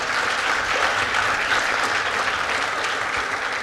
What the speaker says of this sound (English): Please give Andrea a round of applause